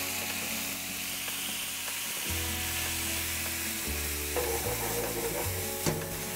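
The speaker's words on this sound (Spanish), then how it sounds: "este tomate se va a cocinar lentamente en el perfume del aceite de oliva, el orégano y el ajo" Grated tomato cooks in olive oil with oregano and garlic, a steady close sizzle and fry with faint clinks and stirring scrapes, no voices.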